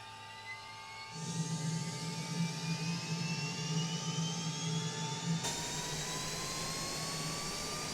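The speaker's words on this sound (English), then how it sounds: "a little jet engine that fires up the main engines." A small jet auxiliary power unit in a MiG-29 Fulcrum flight game spools up with a rising whine and steady low hum, its pitch climbing continuously over several seconds.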